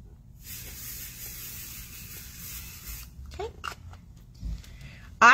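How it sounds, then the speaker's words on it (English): An aerosol can sprays into a box in a long steady hiss lasting several seconds, followed by a few short bursts and some handling noises close by. "I'm going to just spray it into this box and hope it doesn't make a big mess"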